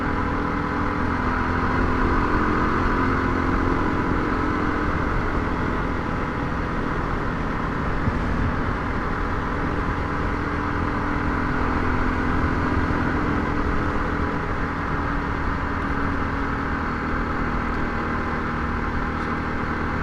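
A 1988 Kawasaki KLR 250 motorcycle engine held at wide open throttle in 6th gear around 45 mph, a steady loud mid-pitched drone that runs unbroken and stays close for the whole stretch.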